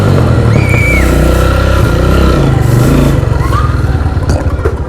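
A Renegade motorcycle engine runs loudly up close with a rough, uneven misfire, the rumble clattering and pulsing irregularly as it idles and revs, with no talking.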